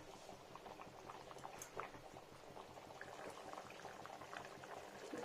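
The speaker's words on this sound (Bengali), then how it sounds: "ফুটতে থাক কিছুক্ষণ ফুটবে" Mrigal fish curry simmers uncovered in a pot, a soft steady bubbling with small pops and gurgles rising from the thin broth, faint and close with no talking.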